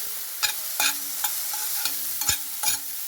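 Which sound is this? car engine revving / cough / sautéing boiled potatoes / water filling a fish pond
sautéing boiled potatoes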